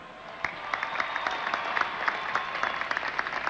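A crowd applauds at an outdoor ticker tape parade as the Yankees field staff are introduced after winning the 1998 World Series. The clapping is steady and moderately distant, with a few louder nearby claps and no talk.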